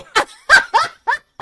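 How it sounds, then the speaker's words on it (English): Dogs bark and yip in short, close, loud bursts, five quick barks in an uneven rhythm with brief gaps between them. "The sounds you hear are probably dogs."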